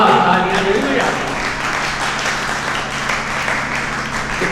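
An audience at a large Hindi poetry gathering (kavi sammelan) applauds loudly, dense continuous clapping that tapers slightly over several seconds with no talking.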